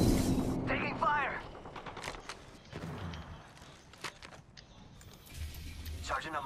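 Gunfire in the battle royale game Apex Legends, heard as scattered sharp cracks and bursts under game voice lines and ambient noise, fairly quiet overall.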